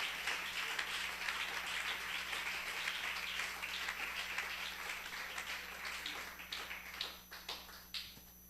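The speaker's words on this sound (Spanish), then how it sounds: "Dele un aplauso a ese Rey maravilloso" Congregation in a church service applauding, a steady wash of many hands clapping at a distance, fairly quiet, with a few sharper individual claps near the end.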